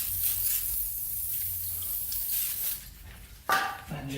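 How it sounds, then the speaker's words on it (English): A short spray of WD-40 hisses onto ATV parts close by, a steady airy burst followed by a brief sharper squirt and a small clatter near the end. "Little WD-40 squirt."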